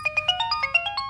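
A phone rings with a bright electronic ringtone, a quick run of about nine short, evenly spaced melodic beeps that step up and down in pitch, clear and close against near silence.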